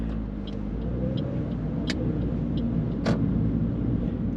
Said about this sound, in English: Wait until the car passes.